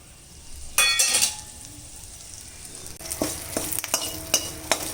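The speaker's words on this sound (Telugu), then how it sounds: "ఇప్పుడు 1 స్పూన్ నూనె వేసాను. ఈ కరివేపాకు వేసేస్తాను." Curry leaves crackle and sizzle in a spoonful of hot oil, with bursts of spitting around the first second and sharp pops repeating toward the end, close and fairly loud over a steady frying hiss.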